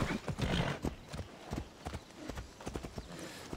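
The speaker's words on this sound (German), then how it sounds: "aber naja, man kann ja mal wieder reiten." Horse hooves galloping in the video game Assassin's Creed Odyssey, a fast, uneven run of close clip-clop beats continuing throughout.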